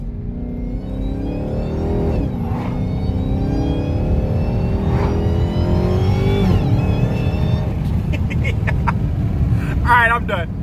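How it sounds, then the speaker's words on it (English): A Dodge Hellcat fitted with a JLT intake accelerates hard in first gear, its supercharger whine climbing in pitch over a steady, loud engine roar, with a couple of brief lulls and sharper rising sweeps toward the end. "just go ahead and drop it in the gear yourself and listen to her whine"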